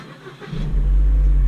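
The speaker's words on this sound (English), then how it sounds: "Press the brakes and start the car." The engine of a 2008–2016 Holden Cruze cranks and catches, then settles into a steady, loud idle rumble close by.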